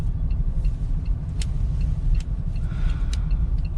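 Mahindra Scorpio engine rumbling low and steady as the car is brought to a stop from fourth gear, close and continuous with faint road noise and a few small clicks.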